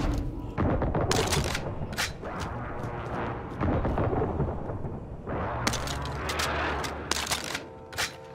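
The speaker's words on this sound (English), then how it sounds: "Friendly precision airstrike inbound." Precision airstrike explosions tear through a Call of Duty Warzone match, a dense run of heavy booms and rattling blasts sustained for several seconds with a second loud burst later, close and loud over rumbling battle noise.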